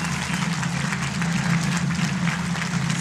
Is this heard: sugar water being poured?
no